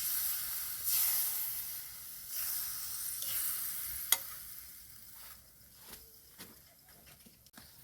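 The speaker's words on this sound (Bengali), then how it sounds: "টক দইটাকে ভালো করে মিক্স করে নেব।" Sour yogurt is stirred into a sizzling frying-pan mixture for jackfruit kofta, a steady hiss with soft scraping of the spoon and a few sharp clinks against the pan.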